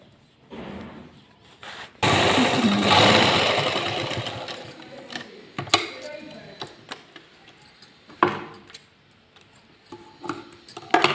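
A sewing machine runs a long continuous stitching pass along the centre seam of a salwar waistband after elastic has been threaded through, followed by shorter bursts and clicks of handling.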